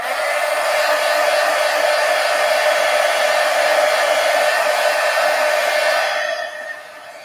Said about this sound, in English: let me hit them with the heat gun real quick